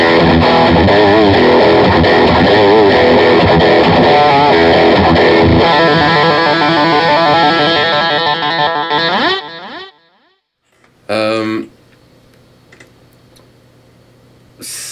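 Heavily distorted electric guitar with a mahogany body, Seymour Duncan Yngwie pickups and a Wilkinson bridge plays thick, loud sustained chords and riffs for about nine seconds, then cuts to near silence before a brief distorted burst.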